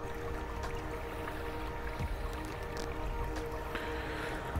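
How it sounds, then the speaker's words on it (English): A small waterfall in a model Tudor village trickles and splashes steadily, faint and close with some dripping, among outdoor background noise. "That there is a waterfall with giant leaves."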